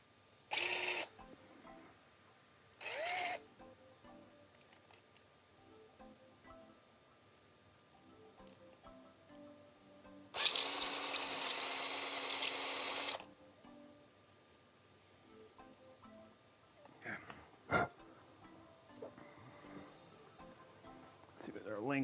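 Freshly cut tubing for a water-cooled PC is deburred. There are short scraping rasps, one longer harsh scrape of about three seconds, and a few clicks, with soft talk in between.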